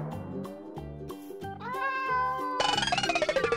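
Cat meowing in Minecraft, several short harmonic meows in quick succession over game music, with a brighter, louder stretch of sound near the end.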